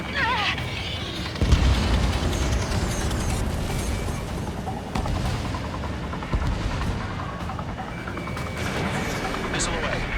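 A missile launches from an F-14D fighter jet in Ace Combat 7 with a sudden loud burst that cuts through a constant roaring engine drone, while radio voices speak throughout.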